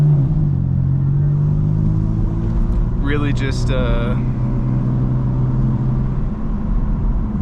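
A BMW M4 F82 engine drones low and steady inside the car while driving through the city, a rumbling hum with a brief rise in pitch, as a voice speaks a single word partway through.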